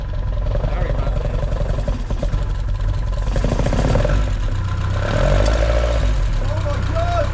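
The engine of a Vauxhall Vectra Super Touring race car idles loud and close with a rough, rattly clatter, holding steady throughout with a slight swell near the end.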